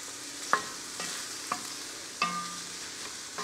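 Vegetables sizzling and browning in a pan on a Big Green Egg ceramic grill for Indian street food, a soft steady fry hiss broken by a few sharp scrapes and clinks of stirring, close and fairly quiet, with no talking.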